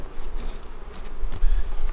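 A few honeybees hum around a hive box during a Demaree swarm-control split, a steady close buzz over low rumbling handling noise, with no talking.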